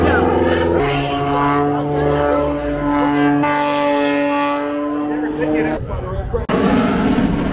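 Propeller airplane at EAA AirVenture Oshkosh in Wisconsin, a steady droning engine tone with strong harmonics running loud and close for most of the clip before cutting to broadband noise, with people talking over it.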